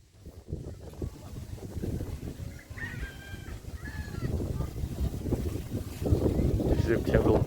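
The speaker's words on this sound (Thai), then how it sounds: "เสียงลมตาเลยท่านผู้ชม" Wind blows steadily across a quiet village outdoors, a broad rushing roar that swells and gusts louder toward the end, with a few faint bird calls in the background.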